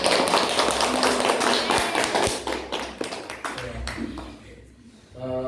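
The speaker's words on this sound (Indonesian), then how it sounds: "Tepuk tangan untuk kita semua" Children in a classroom burst into applause, a dense crackle of many hands clapping for several seconds before it thins out and fades away.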